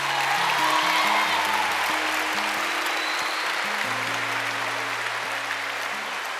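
Audience applause fills a youth conference hall at a Steubenville San Diego event, a steady dense wash of clapping throughout, with a low tonal hum running underneath.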